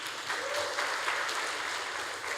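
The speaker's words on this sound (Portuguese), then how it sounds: "Você pode aplaudir Jesus por isso?" A church congregation claps together through the whole stretch, a steady dense wash of applause with no voices over it.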